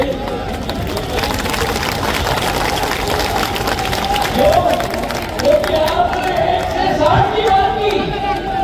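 Large crowd at an outdoor public address in Gwalior's Maharaj Bada claps and murmurs, applause building and swelling in uneven bursts with voices mixed in.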